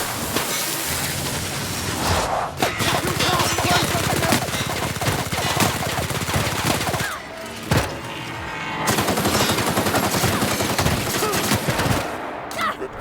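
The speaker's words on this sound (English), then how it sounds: "Shotgun time!" Heavy gunfire bursts from a shotgun and other weapons in The Outer Worlds, loud and dense, running almost continuously with a brief lull in the middle.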